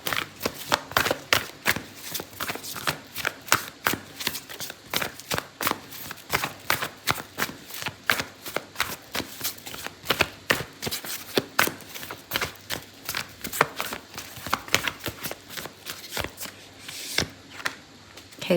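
Oracle cards shuffled by hand in rapid, continuous riffling flutters, close and fairly loud, with brief pauses between bursts.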